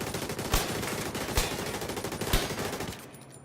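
Carbine 7 rifle firing in a shooter game on a test range, a steady stream of rapid automatic shots with three louder cracks spaced out, cutting off abruptly near the end.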